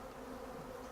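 Honeybees disturbed while frames are set into a hive, flying in small circles nearby, fanning and buzzing in a steady, dense drone with no talk.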